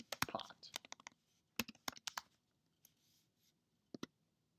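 Quick bursts of typing on a computer keyboard, close and quiet, with rapid clustered key clicks separated by short pauses and a few isolated taps near the end.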